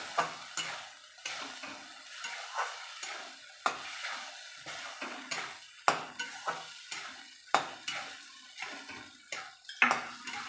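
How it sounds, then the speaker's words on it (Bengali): Pre-fried potato pieces stirred through a Bengali lentil dumpling and potato curry in a pan, a soft sizzle punctuated by regular sharp spatula scrapes against the pan, close and without talk. "এবার আলুটাকে দিয়ে আর একটু ভালো করে কষে নেবো"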